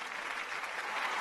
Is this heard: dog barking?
no